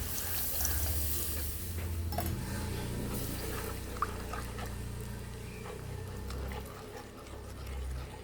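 Water pours steadily into an onion curry in a home kitchen, a continuous splashing and trickling wash that stays even throughout with faint clinks.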